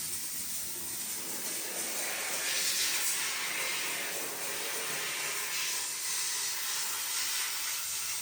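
Dry steam cleaner hissing as it sanitizes bathroom fixtures, grooves and grout gaps, a continuous soft airy hiss with slight swells, close and alone.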